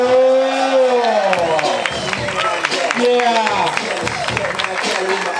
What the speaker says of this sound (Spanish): Aplausos, animamos un poco